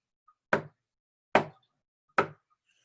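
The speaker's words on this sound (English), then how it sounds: "Just then, she heard a thump on the door." Three loud, evenly spaced thumping knocks on a door, each sharp and close, with silence between them.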